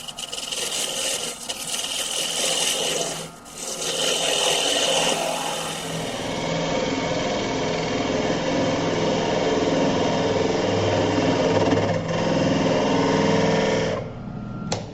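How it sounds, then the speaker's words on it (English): A steady high-pitched whirring of a lathe as a skew chisel cuts spinning wood, continuous and close, easing off briefly near the end. "I'm going to go to a skewed chisel."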